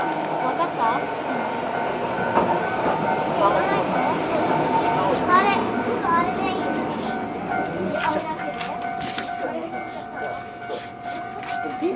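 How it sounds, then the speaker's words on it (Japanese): A Japanese commuter train rolls into a station with rumbling wheels and squealing brakes, steady mechanical hum throughout, while people talk nearby. "来ました 。 あ、来るの。 あ、はい。 電車です。"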